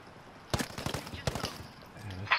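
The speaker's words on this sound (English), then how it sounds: "I hear gunfire." Bursts of automatic gunfire in a multiplayer first-person shooter match, two clustered volleys of rapid shots at moderate distance, with a player's voice talking around them.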